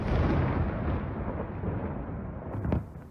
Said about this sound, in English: On October 17th, a series of explosions occurred in Kiev.